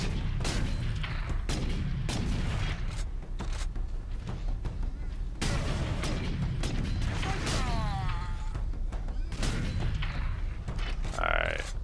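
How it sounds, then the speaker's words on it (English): Gunfire and bursting bomb squigs in the Warhammer shooter Space Marine, with a steady stream of shots, sharp booms and clanking action up close, under a voice talking. "This is bomb squigs. Yeah, you definitely want to shoot those from range."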